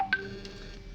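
Telephone tones as an incoming call is dismissed, a couple of quick electronic beeps at the start followed by a faint lingering tone, brief and close with no voices.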